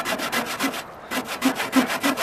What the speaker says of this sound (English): Pull saw cuts on the pull, not on the push.